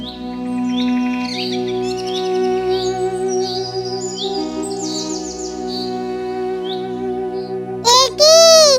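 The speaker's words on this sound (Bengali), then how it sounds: "ওখানে একটি কত সুন্দর পাখি বসে আছে।" A bird chirps and tweets repeatedly in a cartoon forest, bright twittering calls layered over a steady musical background, ending with a louder burst of sweeping chirps.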